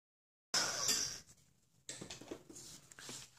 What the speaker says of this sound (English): And now we're just going to heat emboss it.